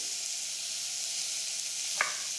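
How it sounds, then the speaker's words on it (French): Steady, bright sizzling of onions browning in a hot pan, a continuous frying hiss with a small clink near the end. "Je vais faire blondir mes oignons"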